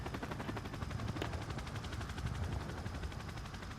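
Rapid automatic gunfire in the Call of Duty video game, a steady rattle of shots with a low rotor-like drone underneath, continuous and fairly distant-sounding across the few seconds.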